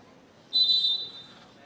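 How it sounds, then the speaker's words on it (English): A referee's whistle at a women's football match in the Canberra NPL, one sustained blast of roughly half a second, clear and fairly loud over faint crowd murmur. "just been given the referee's whistle"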